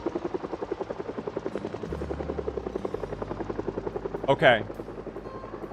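A helicopter in the game Project Zomboid passes overhead with a loud, steady rotor chop that pulses evenly throughout, while a voice briefly speaks over it.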